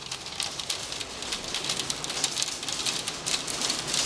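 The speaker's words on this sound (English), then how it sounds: "A piece of hail hit me!" Large balls of hail fall outdoors in a steady, dense clatter of sharp impacts, a continuous bright pattering with occasional louder strikes and no talking.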